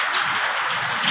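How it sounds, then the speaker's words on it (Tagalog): Heavy rain pouring down over an outdoor construction site, a steady dense hiss of drops close and loud throughout with no pauses. "sobrang lakas ng ulan dito sa site"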